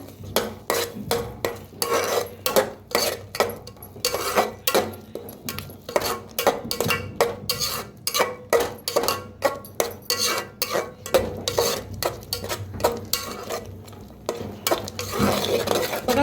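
Turmeric, red chili powder and coriander powder being stirred and roasted in a pan for katachi amti, with a utensil scraping the metal in quick, regular strokes, close and steady throughout.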